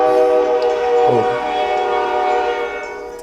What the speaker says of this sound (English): And that's a train, if you didn't hear it.